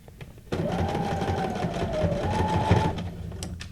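A sewing machine stitches fabric scraps for junk journal ephemera, starting abruptly after a brief quiet moment and running at a steady, fast whirring pace for over two seconds before stopping.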